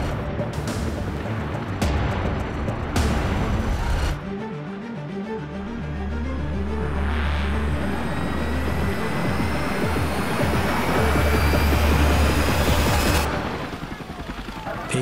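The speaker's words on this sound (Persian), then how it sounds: "روبروی بیمارستان بهارلوی تهران بالگردی به زمین می‌نشیند" A helicopter lands on a closed street in front of Baharloo Hospital in Tehran, its rotor giving a steady, rhythmic low thumping under broad, loud mechanical roar that swells and lasts for most of the stretch.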